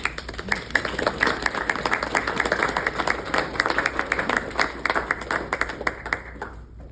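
A seated audience gives sustained, even applause to welcome an award speaker at an academy ceremony, a dense wash of many clapping hands lasting several seconds before tapering off abruptly at the end.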